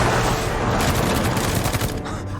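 Gunfire exchange in an action film scene, with loud, rapid bursts of shots and booming reports packed together in a continuous, chaotic volley.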